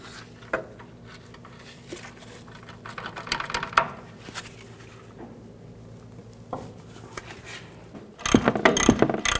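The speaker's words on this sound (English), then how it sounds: "you can put a wrench on the end of the bolt" A wrench or ratchet turns a front upper control arm bolt on a 1999-07 Chevy Silverado 2500, giving runs of close metallic ratcheting clicks and clanks that build into a louder, busier burst of metal-on-metal clatter at the end.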